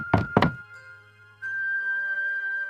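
Two quick knocks on a wooden door in an animated story, close and sharp, followed by a sustained tone.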